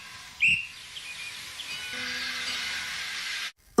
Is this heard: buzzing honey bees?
no